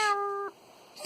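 A pet cat gives a single clear, tonal meow, close and fairly loud, that cuts off abruptly and leaves a quiet room.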